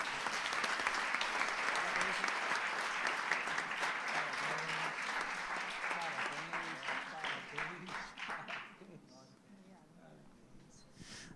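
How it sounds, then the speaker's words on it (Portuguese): Many hands of a church congregation clap together at a celebration service, loud and sustained for several seconds before fading into scattered claps, with voices under the applause. "Vamos aplaudir Jesus?"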